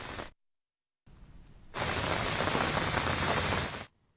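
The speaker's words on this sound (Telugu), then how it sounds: "అల్పపీడన ప్రభావంతో కురిసినటువంటి భారీ వర్షంతో ఏలూరు నగరం మొత్తం కూడా జలమయమైనటువంటి పరిస్థితి" Heavy rain from a low-pressure system pours over Eluru city. A brief patch of dense hiss gives way to a gap, then a softer patter that swells into a steady, full downpour roar before it cuts off.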